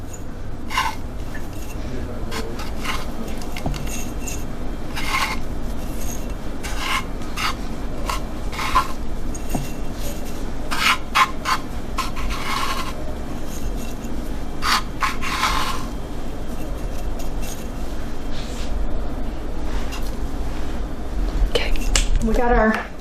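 Dried usnea lichen is pushed and packed into a jar, making repeated close, dry rustling scrapes and crinkles at a steady level throughout.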